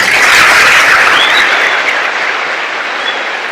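A large audience at a tribute event honors a Master Gunnery Sergeant retiring from the Marine Corps with loud, close, continuous applause, a dense wash of clapping held at steady volume throughout.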